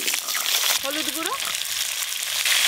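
Potatoes and papaya fry together in mustard oil in a village kitchen, a loud, dense sizzle throughout with a short voice rising and falling briefly in the middle.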